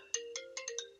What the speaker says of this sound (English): Someone's calling me on my phone.